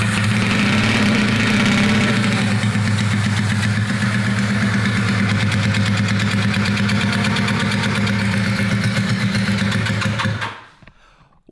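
A rebuilt Honda CB250 Super Dream motorcycle engine runs loud and close at a steady, slightly uneven idle, then cuts out abruptly near the end.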